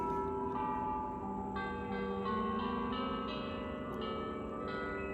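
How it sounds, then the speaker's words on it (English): Bells toll at a cemetery in a sunny Arizona town, with layered metallic chimes striking every second or so over a lingering hum that never dies out. No one speaks. "Boy, those bells are haunting, aren't they?"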